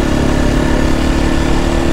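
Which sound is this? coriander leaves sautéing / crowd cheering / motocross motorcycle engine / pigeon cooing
motocross motorcycle engine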